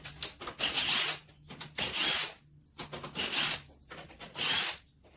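A power tool, likely an impact or drill driver, spins off four 10 mm bolts holding a panel on a Ford F-150 front end during a headlight swap, giving four loud bursts of whirring separated by short pauses, close up.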